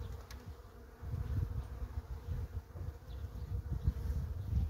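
A dense, steady hum of many honeybees from a colony badly affected by Varroa mites, buzzing close by, continuous and fairly loud with no voices.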